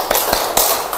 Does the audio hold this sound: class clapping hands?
yes